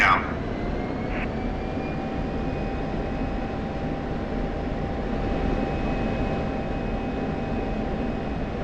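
F-16 jet on approach for landing on runway 05 in the DCS flight simulator over Syria, a steady, loud engine roar with a sustained whine running throughout, nearly constant in level.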